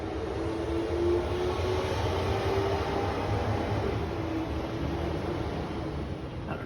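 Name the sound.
construction trucks driving down the street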